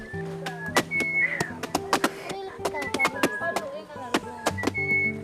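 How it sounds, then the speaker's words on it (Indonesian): A Korowai woman in Asmat, Papua whistles short melodic phrases while sharp knocks and thuds of work clatter around her, with voices speaking nearby. "Mama di sini kalau kerja sambil bersiul biar nggak capek gitu ya"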